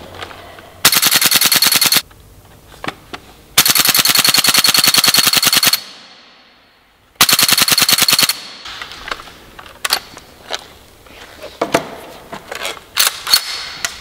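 Airsoft gun firing in full auto, loud rapid bursts of sharp clicking shots in three long strings with pauses, followed by lighter mechanical clacks and rattles.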